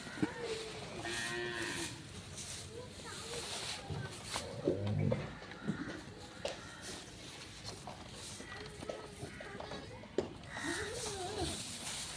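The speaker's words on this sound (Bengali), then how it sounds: "আমরা গরুগুলোকে দেখছিলাম" Deshal breed bulls moo in a cattle shed, with several low, drawn-out calls spread across the scene. People talk in the background and there are faint shuffling footsteps.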